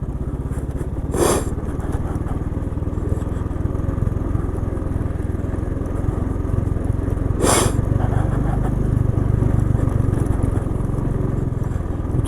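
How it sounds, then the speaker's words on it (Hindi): A motorcycle rides steadily downhill using engine braking, with a continuous mid-pitched engine drone and road noise, broken by two brief louder bursts. "साथ में इंजन ब्रेकिंग भी यूज़ कर रहा हूँ मैं।"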